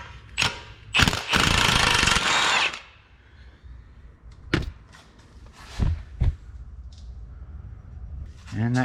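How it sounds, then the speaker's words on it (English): An impact wrench rattles in short bursts as it removes the catalytic converter nuts on a 2018 GMC Acadia. One longer, loud burst is followed by a few brief ones, with a person talking between them. "I'm probably just going to come in here with an impact and remove these"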